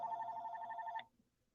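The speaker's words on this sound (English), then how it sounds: "That's the house phone ringing." A house telephone rings with one steady electronic trill that cuts off after about a second, leaving a quiet room; faint and alone, with no talking over it.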